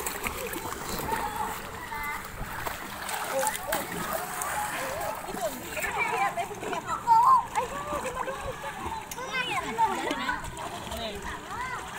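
Children splash and play in water while bathing outdoors, with irregular close splashes and sloshing under near-constant chatter and calls from kids and adults throughout.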